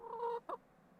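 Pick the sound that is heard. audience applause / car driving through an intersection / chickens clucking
chickens clucking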